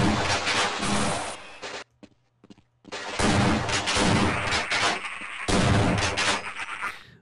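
Gunfire from a weapon in Half-Life, loud close bursts of rapid shots in several volleys separated by a brief near-silent pause, sharp and punchy.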